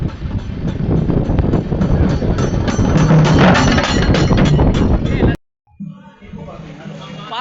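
Amrit Bharat Express running from Thiruvananthapuram Central toward Tambaram, with a loud, steady rail rumble and rhythmic clickety-clack for about five seconds before it cuts abruptly to a quieter interior hum.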